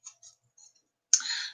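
Flower-themed oracle cards are shuffled by hand: a few light, soft clicks as they are handled, then a short, crisp riffling rush of card edges, close and fairly quiet with no talk.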